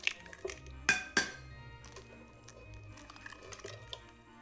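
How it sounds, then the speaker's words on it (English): Sweetened condensed milk and two eggs go into a mixing bowl for a pumpkin pie cheesecake, heard as several bright clinks against the bowl followed by soft wet pouring and sloshing, close and moderately quiet. "I'm going to add the sweetened condensed milk, 2 eggs"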